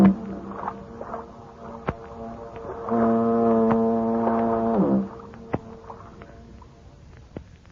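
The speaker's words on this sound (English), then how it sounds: "that symphony of foghorns booming across the bay" A deep, sustained foghorn blast booms across a bay near the Golden Gate for about two seconds, with a few sharp knocks and faint ambient noise before and after.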